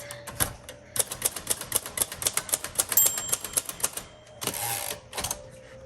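A 1957 Royal Quiet Deluxe typewriter in tan crinkle finish is typed on in a close, steady run of crisp keystrikes, with a brief carriage or bell-like sound near the end.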